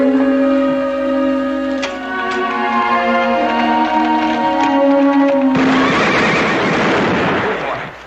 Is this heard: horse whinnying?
yes